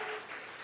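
Church congregation applauding during a Sunday morning service, a brief dense wash of clapping from many hands, steady and fairly loud with no voices over it.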